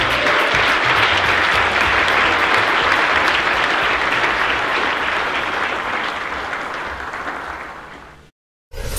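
Audience applauding at an entrepreneurship talk as Ruslan Kogan is introduced, a loud, sustained wash of clapping that fades gradually before cutting off abruptly.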